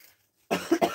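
After a brief quiet, a person coughs close up, a short burst followed by two quick rough coughs.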